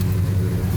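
An old car engine idles with a steady, deep low rumble and a slightly uneven throb, close by and continuous, with no voices.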